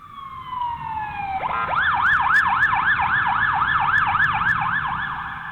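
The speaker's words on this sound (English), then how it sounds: "Ambulance sirens that echoed off the rocky canyon walls" A loud wailing ambulance siren rises in pitch, then cycles up and down steadily, echoing off rocky canyon walls with a reverberant quality.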